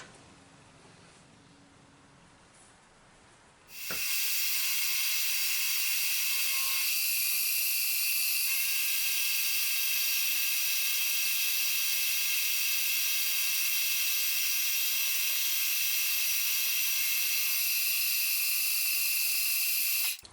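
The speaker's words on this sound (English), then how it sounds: "I'm gonna take the final pass in the milling machine" A milling machine makes its final cutting pass on a brass micrometer part in a workshop, a steady high whine and hiss that starts suddenly after a quiet stretch and runs unbroken and loud.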